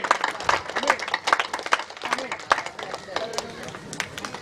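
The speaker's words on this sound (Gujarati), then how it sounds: "જોરદાર તાળી।" An audience at a community welcome ceremony applauds in a dense, steady burst of clapping that carries on throughout, with voices murmuring underneath.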